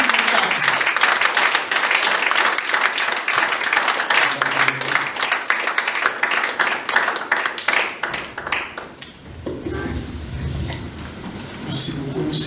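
A church congregation at a Full Gospel service in Togo applauds and cheers: dense, sustained clapping for several seconds that tapers off, with voices mixed in and a speaker talking near the end.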